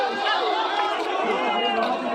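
A crowd of Imran Khan supporters chanting slogans at a rally near a bridge in Pakistan, a dense, steady wash of many voices heard from close by.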